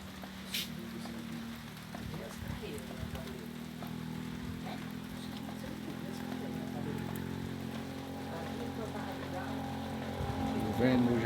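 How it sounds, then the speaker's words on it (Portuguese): Steady rain falling at night in Nova Jaguaribara, Ceará, Brazil, a soft continuous hiss of drops on surfaces with faint background rumble, gradually growing a little louder toward the end. "Chovendo hoje à noite em Nova Jaguaribara."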